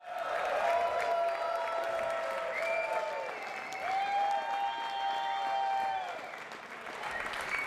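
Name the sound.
racquetball crowd applauding and cheering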